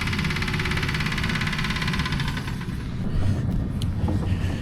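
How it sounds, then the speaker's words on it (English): A London Underground Piccadilly Line train's air compressor with a possible fault, running as a loud, steady low rumble with a rapid pulsing rattle, heard close and without talk. "That compressor doesn't sound healthy."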